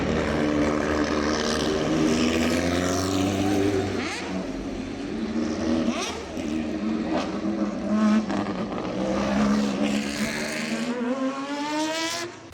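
A Nissan GTP sports car, an old Le Mans style race car in iRacing, roars loudly with its engine rising and falling through repeated revving sweeps and gear changes, close and continuous with no talking.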